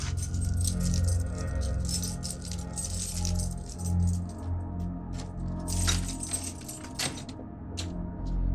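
Spare keys jangle and clink against a door lock while it is being unlocked, a close metallic rattling that continues in bursts over a low steady background hum.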